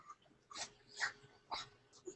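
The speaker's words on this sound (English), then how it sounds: "The dog has decided that she is starving and needs feeding" A dog is hungry and wants to be fed. She gives soft whimpers and breathy whines in a steady run of four or five short bursts, faint and somewhat distant, with no talking.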